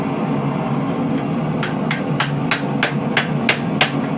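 A chisel is struck with a hammer into cuts on a feather-pattern knife blank clamped in a vise, giving about eight sharp metallic blows at a steady, quickening rhythm over a low workshop hum.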